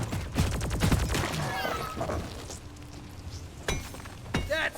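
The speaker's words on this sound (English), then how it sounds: "SMG packs a punch." Rapid SMG fire in Deep Rock Galactic, a tight burst of loud rattling shots in the first second and a half, then sparser sharp impacts and clinks with a voice talking over them.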